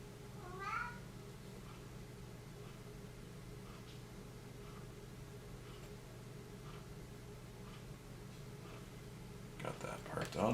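A domestic cat meows near the start, followed by a few fainter calls, while someone talks steadily over a low hum indoors.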